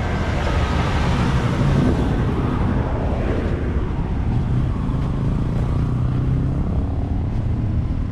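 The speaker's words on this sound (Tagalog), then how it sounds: "Ito mga kabisig ang motor ni Kuya Loloy." A Honda XRM motorcycle rides through traffic, its engine droning steadily with road rumble and surrounding vehicle noise throughout.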